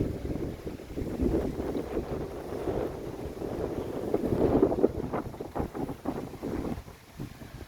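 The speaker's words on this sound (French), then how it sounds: "Je vais parler un peu plus fort parce qu'il y a beaucoup de vent." Strong wind buffets the microphone in rumbling, gusty bursts, rising and falling with no talk over it, in a central courtyard of a four-storey building in Malaga.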